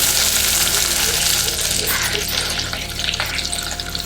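Chopped onion hits hot oil with cinnamon, cloves, cardamom and fennel seeds, making a loud, dense sizzle that eases slightly as it is stirred.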